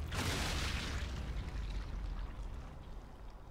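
A grenade explodes in the Sniper Elite 5 video game, a loud close boom at the start that fades into a long rumbling tail.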